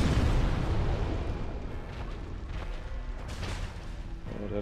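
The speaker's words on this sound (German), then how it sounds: "Macht er wieder Explosion." A loud, low-heavy explosion in Dark Souls Remastered on Xbox opens with a dense rumbling blast, then settles into a sustained rumble with scattered crackling bursts to the end.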